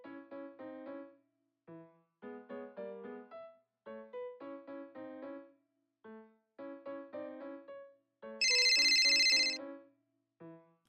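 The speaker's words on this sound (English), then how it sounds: "Now you finally answer the phone." Telephone ringtone playing a repeating melodic tune in short bursts with brief pauses between phrases, ending in a louder, brighter electronic chirp.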